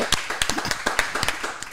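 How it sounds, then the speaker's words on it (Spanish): A small group claps in a loose, uneven rhythm during a casual conversation about a Grammy nomination, with sharp individual claps standing out near and clear, no speech over them. "un aplauso por eso"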